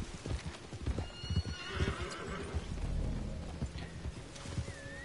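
A horse in the Red Dead Online video game clip-clops with steady hoofbeats and lets out a whinny, close and clear, over faint game ambience with no talking.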